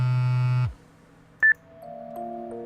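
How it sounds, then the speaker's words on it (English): A cell phone rings with a steady electronic ringtone, then cuts off abruptly after under a second, followed by a short beep and faint, soft tones in a quiet room. "The cell phone in Shiguda's hand stopped ringing."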